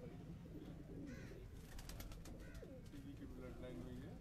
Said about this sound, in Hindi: ये एक और कबूतर है जी